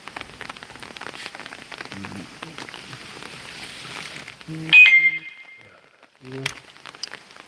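Steady rain falls through the first few seconds at an outdoor herb garden in Bongpyeong, Pyeongchang, as a soft continuous patter, then stops. After it, brief sharper knocks and a short ringing tone follow, with quiet background sounds.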